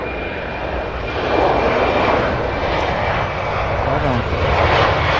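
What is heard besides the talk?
Delta Airbus A220-100 jet passing close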